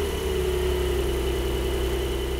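A Porsche 911 Turbo S with its twin-turbo 3.8 liter flat six boxer engine idles steadily, a constant low hum with a deep rumble and a faint whine, unchanging and close, with no talk.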